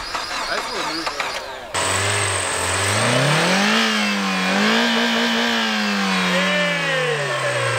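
A Mazda Miata engine cranks and catches, then rises into a loud, close, wavering rev that rises and falls as it keeps running, with voices talking faintly at the start.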